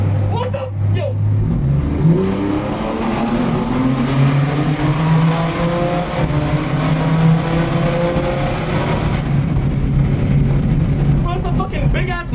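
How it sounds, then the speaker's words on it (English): A monster truck engine roars and revs loudly on a New York street, sustained and close, with the pitch climbing and holding as it powers along, and excited voices faintly over it. "it's a fucking big ass monster truck cutting up"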